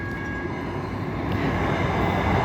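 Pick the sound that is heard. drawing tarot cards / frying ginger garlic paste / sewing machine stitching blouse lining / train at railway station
train at railway station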